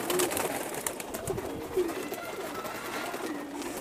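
Pigeons coo softly in a flock kept for breeding and flying, low murmuring calls scattered faintly over a steady background hiss with no talk.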